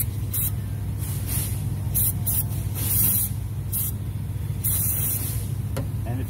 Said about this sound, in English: Spraying it.